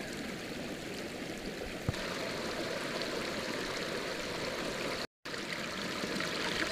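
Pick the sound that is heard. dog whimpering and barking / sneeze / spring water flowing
spring water flowing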